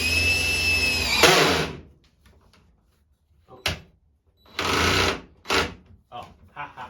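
A power drill with a 1-inch bit boring into a wooden header while wiring an electrical outlet: a close whine for about a second, a short pause, then a couple of shorter bursts and clunks.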